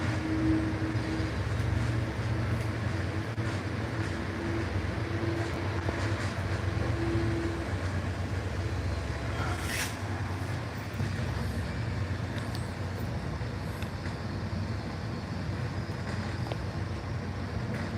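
An MBTA commuter train hauled by an HSP locomotive, about six cars long, rounds a curve during rush hour with a steady, close, continuous rumble and rolling noise throughout.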